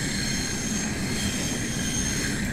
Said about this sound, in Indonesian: Bunyi gongsol atau bunyi rodanya